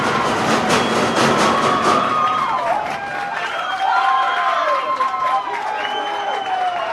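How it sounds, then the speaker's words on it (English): Home football crowd at the Veneto Club roaring for a Bulleen Lions equaliser, a dense, steady wall of cheering with shouting voices over it throughout. "hear what it means to the crowd here at the Veneto Club"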